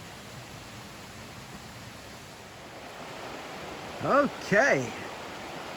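Deep Creek in the Great Smoky Mountains rushes in a steady, broadband wash of flowing water, constant and fairly near, with a brief spoken word rising over it near the end.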